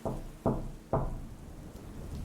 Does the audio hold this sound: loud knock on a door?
yes